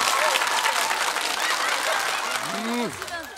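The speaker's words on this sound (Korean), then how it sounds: "박수 주세요." Studio audience applause on a Korean TV game show, a broad wash of clapping with cheering voices and excited exclamations rising over it near the end.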